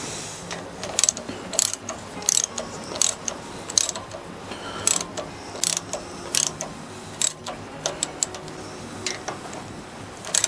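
Hand ratchet tightening nuts on an engine long block during a build, repeated sharp clicking strokes in short bursts with brief pauses, close by over a low background hum.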